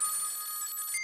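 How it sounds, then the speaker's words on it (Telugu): A telephone rings in a scene from a Telugu feature film, a steady electronic bell tone that holds clear and alone for about a second. "ఏంటి ఫోన్ మోగుతుంది?"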